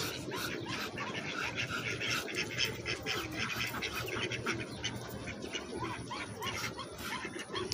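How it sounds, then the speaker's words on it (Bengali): A small flock of white Chinese ducks quacks and chatters almost without pause at close range, their calls overlapping in a busy, steady stream. "সাদা চীনা হাঁস।"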